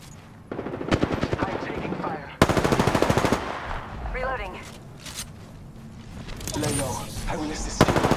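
Bursts of rapid automatic gunfire in an Apex Legends battle royale firefight, loud and close, with sharp rattling volleys that stop and restart and short pauses between them, while voices talk in the gaps.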